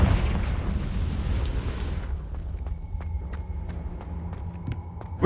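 A Confringo blasting spell explodes in Hogwarts Legacy, a loud, dense roaring blast lasting about two seconds, then dropping to a quieter rumble with scattered sharp clicks and ticks.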